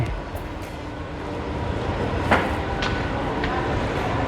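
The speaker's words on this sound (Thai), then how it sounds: "นี่คือสถานีรถไฟฟ้า ใต้ดินของเมืองไทย" Echoing indoor ambience of a large underground metro station in Thailand: a steady low rumble and hum, with a few brief clatters and clicks rising over the background.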